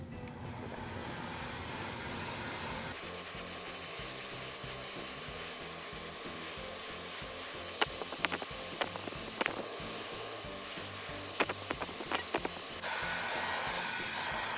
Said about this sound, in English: So that's what happens if you don't keep moving the heat gun.